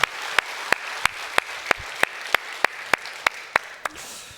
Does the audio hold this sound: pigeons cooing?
no